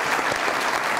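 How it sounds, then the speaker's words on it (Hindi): Steady applause from a studio audience on a comedy show, cheering guest Hashim Dogar; dense, even clapping fills the whole short moment with no pauses or voices. "बहुत सारी तालियां डॉगर साहब के लिए"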